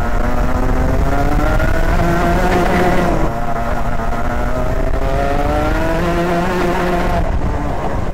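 Racing go-kart engine with a quieter new 2024 exhaust pipe screams loudly on track, its pitch rising and falling through steady harmonic sweeps as it accelerates out of corners and backs off, continuous and close throughout.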